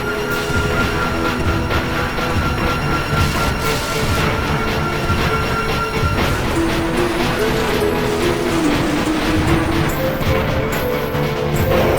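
Train boss rolling on rails in the Zelda Spirit Tracks video game, continuous mechanical rumble and clatter with scattered metallic hits, loud and dense throughout with tonal game sounds layered on top.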